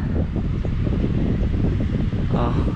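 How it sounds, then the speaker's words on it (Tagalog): Strong wind buffets the microphone with a steady, rumbling roar throughout, gusting unevenly, and a brief voice surfaces near the end. "Wow, mahangin."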